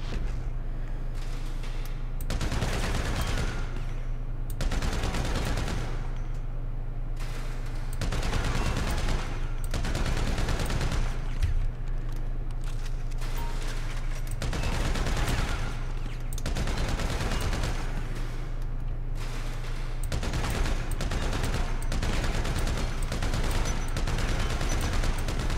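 Heavy machine gun fire at a GTA V shooting range, the video game: loud sustained bursts of automatic fire, roughly a dozen separate volleys of a second or two each, broken by short gaps over a steady low rumble.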